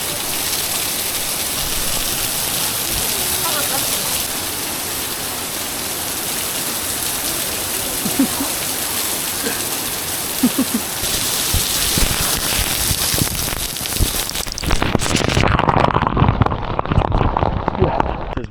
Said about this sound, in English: you can walk behind or underneath the waterfall